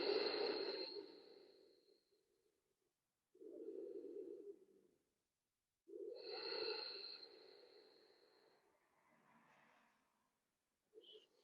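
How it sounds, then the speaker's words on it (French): Slow, soft relaxation breaths during a yoga session for the kidneys, with about three breathy inhale-exhale cycles separated by silent pauses, heard close but faint. "Quelques respirations de détente."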